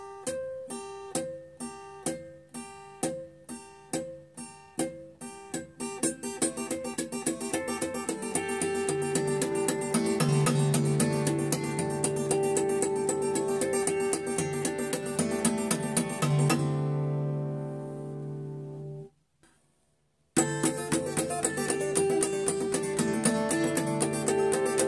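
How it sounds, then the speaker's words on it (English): Electric guitar played with two-handed alternate tapping harmonics: a quick, bright run of ringing chimed notes that builds into a sustained shimmering wash, fades out briefly, then returns loud and alone. "When you make the alternate tapping, left and right, you can make some great sound like this."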